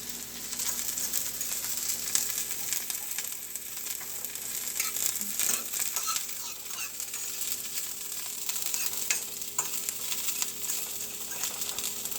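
Mushrooms and spinach sizzle steadily in a skillet while being cooked for an omelet burrito, a continuous close frying hiss with occasional light stirring clicks and no talking.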